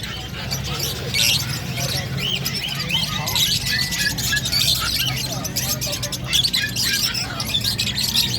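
A dense chorus of many birds, including cockatiels, chirps and squawks continuously, layered over a steady background hum, with people talking nearby at a pet shop.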